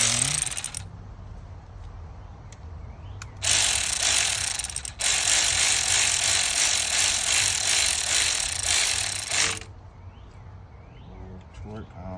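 A socket ratchet turns a spark plug back into the 2.5 L Ecotec engine of a 2017 Buick Envision AWD, with loud rapid clicking in bursts, one a long six-second run, close by.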